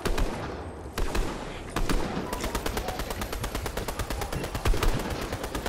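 Rapid automatic gunfire in a shooter video game rattles in dense, evenly spaced bursts with a few heavier single shots, loud and close throughout.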